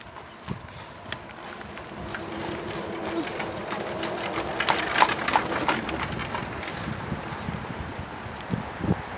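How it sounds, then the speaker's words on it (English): A horse and buggy clip-clopping along a road during a bike ride, steady hoof beats and wooden creaks growing louder as it approaches and passes nearby, with wind noise throughout. "Oh, there's a horse and buggy coming."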